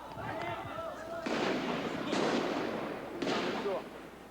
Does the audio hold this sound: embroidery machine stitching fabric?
no